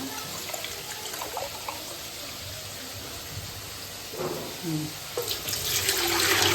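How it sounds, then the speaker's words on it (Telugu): Water runs and splashes steadily into a cooking pot of partly cooked rice for biryani, growing fuller and louder toward the end, with no voices. "మూడు చెంబుల వాటర్ పోస్తున్నా"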